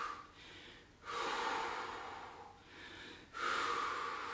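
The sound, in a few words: forceful breathing out during a cardio workout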